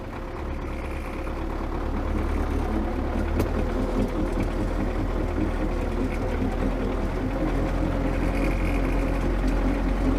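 MTZ tractor with a large cab runs its engine steadily as it pulls away, a continuous low rumble heard close up, with no talk over it.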